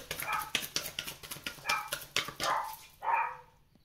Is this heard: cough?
no